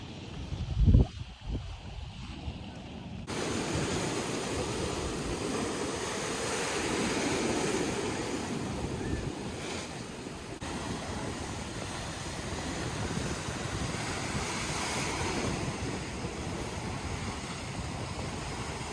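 Ocean waves crash and wash continuously over tide pools at Cabrillo National Monument on the California coast, a loud broadband roar with swelling surges and some wind buffeting the microphone, with no voices.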